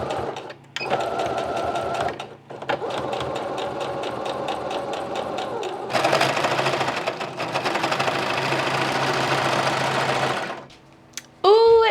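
A sewing machine stitches an elastic band onto fabric in close, rapid mechanical bursts that pause briefly and restart, ending with a short high squeak.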